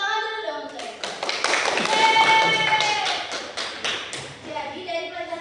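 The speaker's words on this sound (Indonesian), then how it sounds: "Tepuk tangan dulu dong" Students in a classroom clap together in a short rhythmic burst of distinct, fairly close hand claps, with a voice and some talk running over the clapping.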